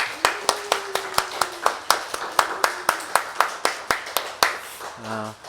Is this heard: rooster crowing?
no